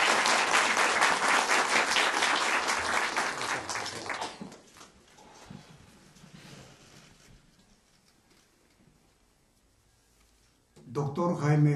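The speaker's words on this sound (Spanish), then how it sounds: "Con el aplauso de ustedes, Raúl Zambrano" An audience at a Casa de la Cultura Ecuatoriana event claps for a presenter, a burst of applause for about four seconds that then fades into quiet room murmur before a voice speaks up again.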